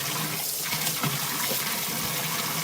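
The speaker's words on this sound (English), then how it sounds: "I'm going to now do a quick water change." Water runs and pours steadily during a quick water change while cleaning dug-up bottles, giving a close, continuous splashing rush with a few gurgles and no talking.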